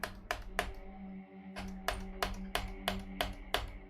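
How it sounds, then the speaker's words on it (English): Mouse clicks from play in the video game Pathologic come as a run of about ten crisp, close, evenly spaced clicks that are loud and stand alone, with no talking. "That's the sound of me clicking."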